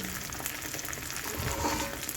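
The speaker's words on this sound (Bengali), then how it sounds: "তারপরে তেলের মধ্যে তবে খুব বেশি তেল দেবো না অল্প পরিমাণে তেল দিয়ে ভেজে নেবো" Cornflour-coated raw banana slices frying in a small amount of oil, a continuous close sizzle and crackle with soft stirring noises and no talking.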